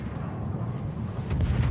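Heavy warship main-battery fire in the naval combat game World of Warships, a dense continuous low rumble of distant booming shots that swells louder near the end, with no talking.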